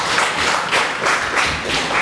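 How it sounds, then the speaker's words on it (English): Church congregation clapping in praise, a dense steady patter of many hands with loose rhythmic pulses, fairly close and continuous for a couple of seconds, with no talk over it. "Let's give God a clap of praise."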